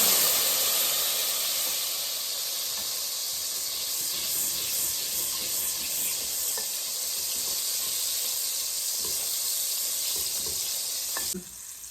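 Butter sizzles and browns in a pan while Rice Krispie treats are being made, a dense, constant hiss running close and loud for about eleven seconds before it drops away sharply at the end.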